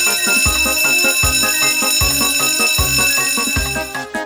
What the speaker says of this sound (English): Suddenly, an alarm started to ring.